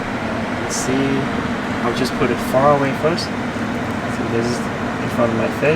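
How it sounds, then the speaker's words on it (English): Climate control air blows steadily from the vent built into the instrument cluster display of a 2023 Tesla Model Y, a constant close hiss under a person talking throughout. "So I'm gonna turn on the climate control."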